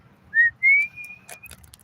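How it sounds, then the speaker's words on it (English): A person whistles outdoors, two short rising notes followed by a longer sustained tone, loud and close, with no talking. "I prefer to whistle louder than that."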